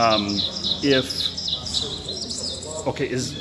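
Birds chirp and tweet in an augmented reality garden app, with repeated bright calls layered through a busy conference room. Voices can be heard talking underneath.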